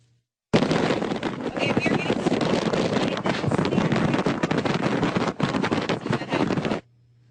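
Loud, roaring Hurricane Sandy wind buffets the microphone in a dense, continuous blast that starts abruptly and cuts off after several seconds.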